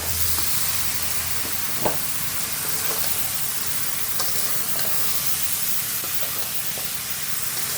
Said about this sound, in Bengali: এরপর খাসির মাংসটা ঢেলে দিলাম।